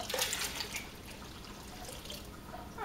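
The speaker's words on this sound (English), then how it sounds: "Let's get a little more water in there." Faint splashing of water pouring into a 5-gallon bucket for homemade laundry detergent, a soft continuous trickle with small bursts at the start and end.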